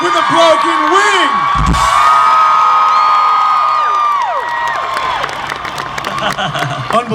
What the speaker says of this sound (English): I think we need to give Luke another round of applause for playing with a broken wing